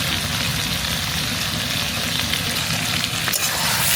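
Chicken kala bhuna with fried onions sizzles steadily in a pan while being stirred, a loud, close, continuous frying hiss with occasional scraping as the spoon moves through the food.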